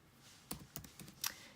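A handful of quiet, separate clicks sound on a computer keyboard as a short word is typed in a hushed room.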